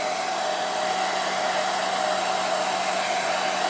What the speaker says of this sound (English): as soon as we put the hair dryer on here